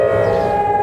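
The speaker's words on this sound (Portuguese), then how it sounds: "A sirenezinha do calor extremo." Extreme heat warning siren wailing as a loud, steady, sustained tone close up, with no voices over it.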